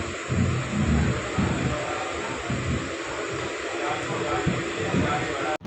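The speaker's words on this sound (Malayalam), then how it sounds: "3 മിനിറ്റത്തെ സ്റ്റോപ്പിന് ശേഷം നാഗർകോവിലിൽ നിന്ന് വണ്ടി എടുത്തിരിക്കുകയാണ്" The Parasuram Express pulls out of Nagercoil station, a steady rumbling, hissing rush of carriages in motion heard from inside, loud and continuous, with a voice talking over it.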